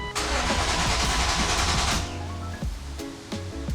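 BMW E36 M3 with a rebuilt S52 inline-six engine, cranked by the starter for a couple of seconds before catching and settling into a close, loud idle.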